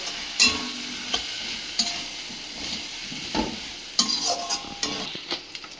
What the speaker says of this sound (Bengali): তার জন্য আমি কাশ্মীর লঙ্কার গুঁড়ো দিয়ে দিয়ে এটাকে আমি কষতে দেবো